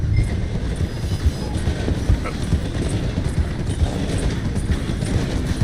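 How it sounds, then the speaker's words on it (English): Horse galloping beside a slowing train in the video game Red Dead Redemption 2, with steady rapid hoof clops over a continuous low rumble of railcars, fairly loud and close throughout. "The train is slowing down to go through the station."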